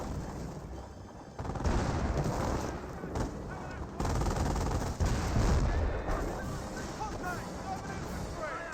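Dense battle gunfire from a Company of Heroes 1 match, with continuous bursts of machine-gun and rifle shots and distant explosions forming a steady loud barrage throughout.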